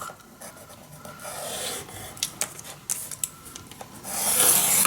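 A scoring tool dragged across craft paper for a mini album, making a run of close, dry scraping and rubbing strokes with a few sharper scratches, rising to a louder rasp at the end.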